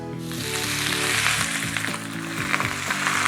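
Wide rice noodles sizzle hard in a smoking-hot, lightly oiled wok, a loud, continuous crackling hiss with a repeating low tonal pattern beneath it.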